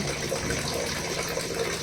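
Water gushes steadily from a household tap after a new filter installation, a dense continuous splashing stream heard up close with no voices.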